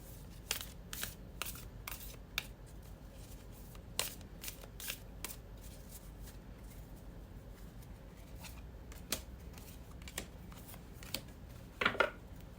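Tarot cards are shuffled by hand, giving soft, quick riffles and flicks that come in irregular bursts over a quiet room, close and faint, with no talking.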